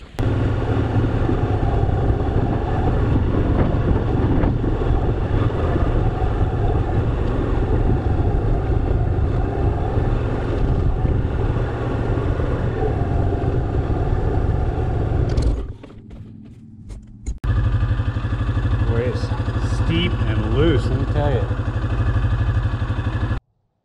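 Yamaha XT250 and TW200 motorcycles on a rocky off-road trail in the Beaver Dam Mountains, the engines droning loud and close with wind rumble and clatter, a brief dip to near quiet midway, then the engine noise resumes.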